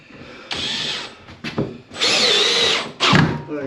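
A power drill drives screws while Shield Autocare sliding windows are fitted into a camper van, several close whining bursts of varying length with short pauses and rubbing between them.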